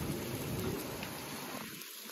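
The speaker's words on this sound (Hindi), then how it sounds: "अचानक बारिश आई, अचानक" Steady, dense patter of rain falling on surfaces, a continuous broadband hiss with no voices, easing slightly near the end.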